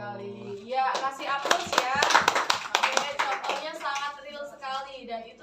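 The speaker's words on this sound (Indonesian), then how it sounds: "Ya, kasih aplaus ya." An audience applauds a classroom presentation at an Indonesian university, with steady clapping from many hands and lively voices and cheers over it.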